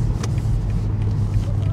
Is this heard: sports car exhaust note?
yes